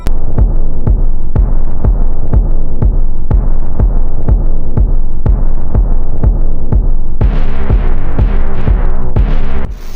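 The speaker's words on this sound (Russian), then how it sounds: "Там есть только одна странная техно-песенка" A strange, obscure techno track plays loud and steady, built on a repeating throbbing kick pulse with a humming synth bed, and brighter layered tones enter near the end.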